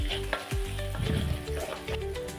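Ginger garlic paste sizzling in hot oil in a pan for egg curry while being stirred, with a steady frying hiss and a few utensil scrapes, close and alone.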